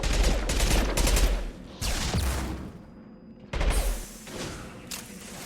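Sustained rapid gunfire and heavy thumps from combat in the video game Mass Effect 2 Legendary Edition, loud bursts that drop out briefly before resuming.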